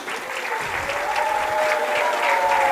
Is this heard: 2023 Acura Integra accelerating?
no